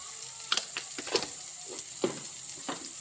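Kantola (spiny gourd) sautés in oil with turmeric, garam masala and salt, giving a quiet, steady sizzle marked by several crisp stirring scrapes and no talk.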